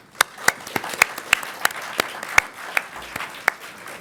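A small audience at a lecture gathering applauds its guests with a few distinct, loud claps standing out over a softer spread of clapping, fairly close and steady throughout.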